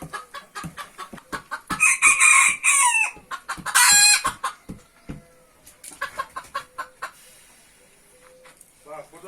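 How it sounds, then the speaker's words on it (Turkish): A Brahma rooster clucks and squawks in loud bursts, with sharp crowing-like calls and shorter clucks, plus scattered clicking and rustling between them. "Bu horozumuzun adı Brahma cinsiymiş."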